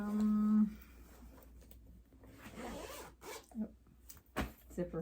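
A zipper is pulled in a few quick rasping bursts, faint and close, with brief talk and a short low hum at the start.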